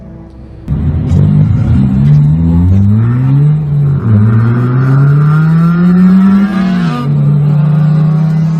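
A car engine starts up and revs, its pitch rising and falling through several accelerations, loud and close with a constant rumble and no talk.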